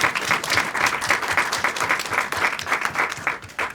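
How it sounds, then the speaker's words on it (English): Audience applause for the cast and crew at the close of a show, a steady dense wash of clapping hands that holds throughout at moderate, even volume. "Round of applause to the cast and the crew."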